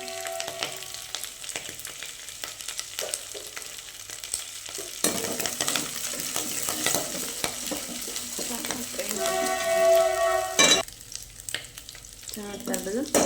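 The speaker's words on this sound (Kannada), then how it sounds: "ಕರಿಬೇವೆಲ್ಲ ಹಾಕಿದ್ದೀನಿ." A pan of curry leaves frying in oil gives a steady close sizzle for several seconds, with scraping stirs and a few clinks of a spoon against the pan.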